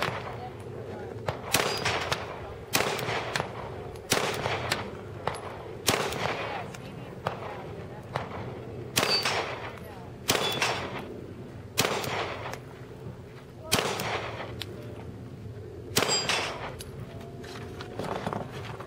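Pistol shots at a GSSF Glock shooting match in Piru, California, sharp reports fired in irregular singles and quick pairs across the clip, some nearer and louder, with faint range noise between them.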